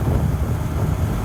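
Rushing wind on a moving motorcycle, heard by a rider wearing Alpine MotoSafe earplugs, a loud, low, buffeting rumble close to the microphone that stays steady throughout with no talking.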